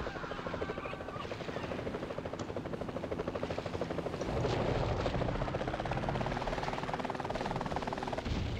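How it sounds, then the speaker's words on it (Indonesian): A helicopter in the video game Jaws Unleashed gives a loud, continuous rotor chop with a fast, even thumping pulse that swells midway and holds close. "Helikopter, cuy."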